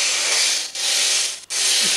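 Robot vacuum cleaner in a mobile video game, a steady loud whirring hiss that cuts out briefly twice before resuming.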